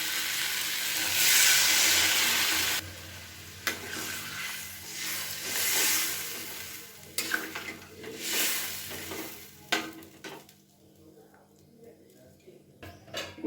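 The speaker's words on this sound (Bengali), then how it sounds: "এবার আমি দিয়ে দেবো পরিমাণ মতো একটু জল" Water added to spiced vegetables frying for a small-fish chorchori sets off a loud hiss that fades, followed by spoon scraping and clattering against the pan, close by.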